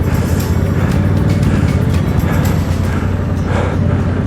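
A motorcycle rides a muddy, wet grass bobsleigh-style track on a raid, its engine droning loud and steady close by throughout, with broadband mud and wind noise layered over the motor.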